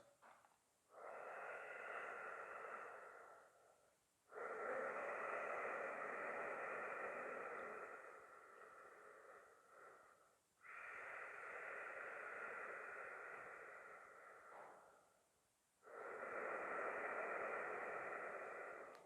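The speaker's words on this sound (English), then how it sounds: "Ujjayi, that sound like breathing in the back of your throat" Four slow, drawn-out breaths of ujjayi pranayama during a yoga flow, each a long soft hiss from the back of the throat separated by brief pauses, heard quietly and alone.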